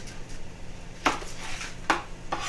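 Knife chopping onion on a cutting board, three sharp, separate cuts at irregular intervals over a soft background hum, close and clear.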